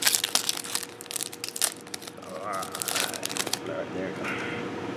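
A Yu-Gi-Oh! Judgment of the Light booster pack being opened, with bright crinkling and tearing of foil wrapping up close, followed by softer rustling of cards, with a voice speaking over it.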